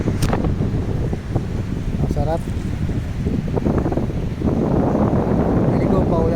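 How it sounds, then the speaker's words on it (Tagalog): Strong wind buffets the microphone in a loud, continuous roar that surges near the end, with a voice speaking briefly over it. "lakas ng hangin dito."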